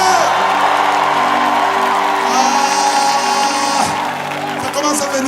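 A church congregation cheers and whoops loudly at a worship gathering, a dense, sustained crowd roar that holds steady throughout with shouts and yells rising over sustained musical tones.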